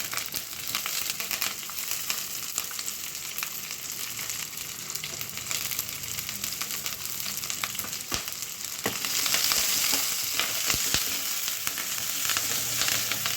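Onion, green chillies and curry leaves sauté in hot oil in a pan for radish chutney, giving a steady close sizzle with occasional stirring scrapes that grows a touch louder partway through.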